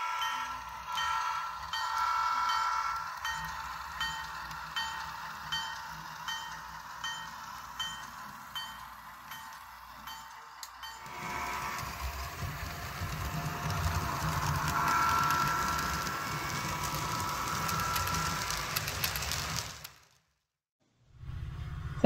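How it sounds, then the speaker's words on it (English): A model train runs along the track through a switch area with a steady rhythmic clatter, shifting to a broader rolling rumble before stopping abruptly near the end. "just ended off here with a couple of test trains."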